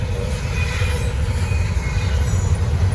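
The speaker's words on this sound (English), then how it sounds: "I don't know what type of issues they got with their train, but they're making it go extra slow." A Norfolk Southern freight train rolls past at unusually slow speed before a snowstorm, a heavy continuous low rumble of wheels and cars with faint squealing tones, loud and close throughout.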